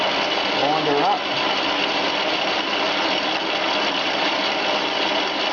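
A Chinese bench lathe converted to a treadmill motor hums and whines steadily while turning a 20 mm steel shaft, with a continuous close machining drone and a faint vocal trace near the start.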